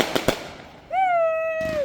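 Fireworks going off in downtown Frankfort, Michigan: two sharp, close pops, then a lull and a long, steady whistling tone that holds and ends with a short burst of noise.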